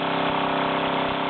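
A Luton Bowman PW203 toy steam engine runs under steam, giving a steady, close, continuous mechanical chuffing hum with a fast even rhythm and no voices.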